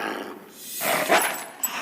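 A purebred puppy barks and growls close by in a short burst, with a whimpering edge at the end.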